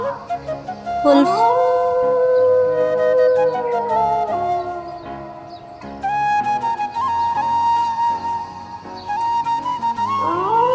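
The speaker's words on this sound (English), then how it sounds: "wolf" A wolf howls in long, sustained, gliding tones that rise and hold, with overlapping howls layered together. The chorus is loud and continuous, with a short break near the middle.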